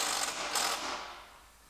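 A short quiet burst of ratcheting as bolts are tightened up from underneath a Ram Promaster City during an engine swap, a few quick mechanical clicks fading out, with no talk.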